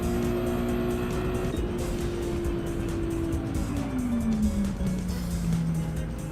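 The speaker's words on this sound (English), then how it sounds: "My Ferrari." A Ferrari race car in a racing video game drones steadily close by, its engine note holding a high pitch and then sliding lower, with tire squeal mixed in and no talking.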